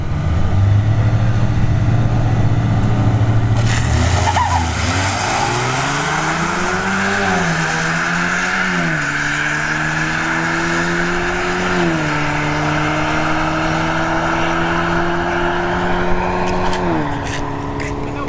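Kia K5 and Chevrolet Malibu 2.0 Turbo launching side by side at a drag strip, engines revving loud and close with rising, stepped gear-change tones and brief tire squeal, holding full throttle down the track.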